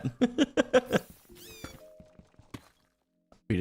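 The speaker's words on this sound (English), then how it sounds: "Cat." A cat in the Minecraft-style video game meows in a quick run of short, clipped calls, then a longer drawn-out whining meow, followed by quiet and a burst of game noise at the end.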